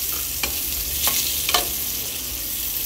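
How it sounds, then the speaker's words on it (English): Triangle-cut onion pieces frying in a pan for peanut rice, a steady close sizzle with a few brief stirring scrapes and clatters, no talking. "now add the onion, triangle shaped onion"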